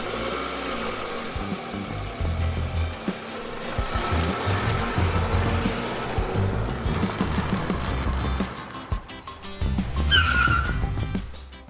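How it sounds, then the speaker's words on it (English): A repaired car out on a test drive, with engine noise and repeated tire squeals and skids running steadily for several seconds, loud and close, plus a brief sharp screech near the end. "I'm going to perform a test drive to make sure everything works properly"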